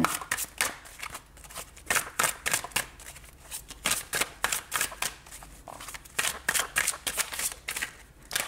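Tarot cards shuffled by hand for a monthly reading, a steady run of crisp riffling bursts in quick rhythm, close and fairly loud, with no talk over them.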